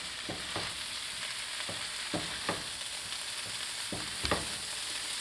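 Beef and broccoli stir-frying in a pan: a steady broadband sizzle runs throughout, broken by several sharp scraping stirs of a utensil, close and moderately loud with no talking.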